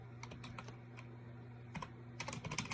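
Computer keyboard typing a note, with soft, quick key clicks in irregular bursts over a faint steady hum, growing busier toward the end.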